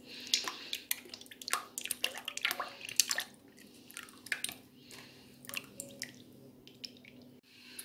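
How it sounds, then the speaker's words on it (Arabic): Cold liquid cream, chilled in the freezer, poured in a 500 ml batch into mascarpone in a mixing bowl, giving soft wet drips, squelches and splashy pattering over a low steady hum, close and fairly quiet. "دابا غادي نزيد 500 مليلتر ديال الكريمه السائله"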